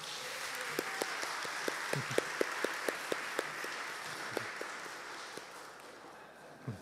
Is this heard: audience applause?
yes